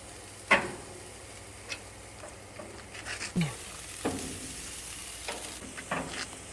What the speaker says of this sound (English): What we're going to do is brown them, sear them.